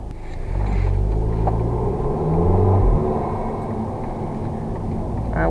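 Steady, loud low drone of an MK2 Audi TT engine and intake while driving on UK roads, rising briefly as it pulls, then settling back to a constant cabin rumble.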